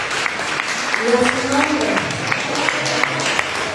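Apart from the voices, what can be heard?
congregation applauding God in church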